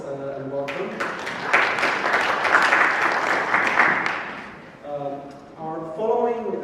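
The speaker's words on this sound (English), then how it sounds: "So please let us give a round of applause and welcome." Audience applause at a security policy forum in Warsaw, a dense sustained clapping swell of several seconds rising between stretches of speech, with talk before and after it.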